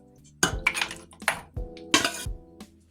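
Jamaican cow foot and broad beans are moved into a cooking pot on a stovetop, with close metallic clinks and clatter of a utensil against cookware and a few soft, dull thumps in between.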